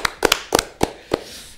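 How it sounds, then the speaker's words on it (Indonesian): A handful of people clap in sharp, uneven bursts, about six claps spread over a second and a half, fairly close and fading between hits, with no talking. "Gimana kalau kita tepuk tangan?"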